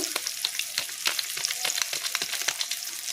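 A paneer mixture fries and sizzles in a pan as coriander powder goes in, with crackling bursts and light stirring scrapes close by and no talk.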